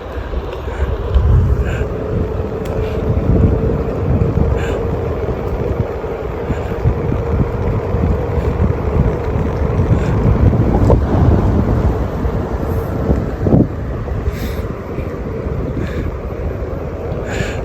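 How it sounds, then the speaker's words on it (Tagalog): Steady, loud wind buffets the microphone in an open park at Birds Hill Provincial Park while kites fly and a Onewheel is ridden, a continuous low rumbling roar filling the whole stretch with no talk. "Sarap ng hangin."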